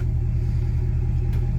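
A Mitsubishi 3000GT VR4 rolls in close by, its low engine rumble pulsing steadily and evenly throughout, with no voices over it.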